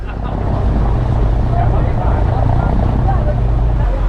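A boat leaving Sai Kung pier gives a loud, steady low engine rumble with wind buffeting the microphone, sustained and close throughout.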